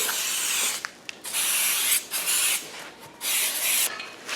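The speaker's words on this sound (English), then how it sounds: "What I like to do, silicone spray, make it slippery" Silicone spray is sprayed from an aerosol can onto a motorcycle tire during a tire install, in several bursts of close, sharp hissing with brief pauses between them.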